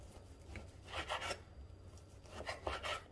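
A knife chops cooked bell pepper on a board in two short bursts of quiet, scraping cuts separated by a pause.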